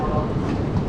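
Heavy, steady rumble of a Shinkansen high-speed train on the Tokyo to Yamagata line, a dense continuous low roar filling the whole moment with faint voices mixed underneath.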